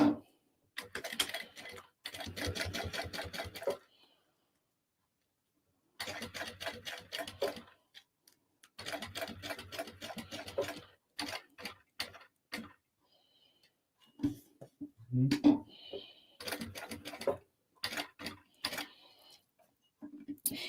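Home sewing machine stitching a crossbody bag, running in several short bursts of rapid mechanical ticking separated by pauses, with slower single stitches and hand-wheel clicks near the end, close and moderately loud.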